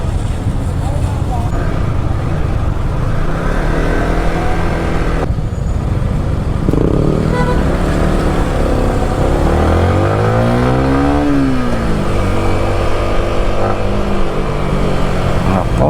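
Busy road traffic of cars and motorcycles crossing a bridge just after rain, a steady near roar with passing engines rising and falling, a vehicle revving up midway, and a person talking over it.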